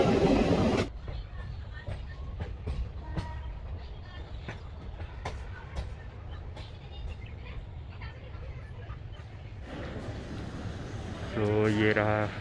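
The Golden Temple Mail passenger train rumbles at a railway station in India with steady mechanical noise and clanks, while a station announcement plays near the end.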